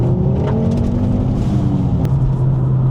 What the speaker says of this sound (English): you don't get bored of a 5-cylinder noise though, that's for sure